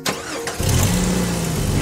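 A new car's engine cranks and catches, then settles into a steady, loud idle close by, with no talking over it.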